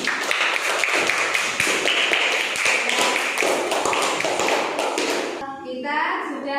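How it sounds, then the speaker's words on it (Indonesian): Classroom applause from a group of students, a burst of dense clapping lasting several seconds, moderately loud, with children's voices mixed in and a voice speaking at the end. "Beri tepuk tangan."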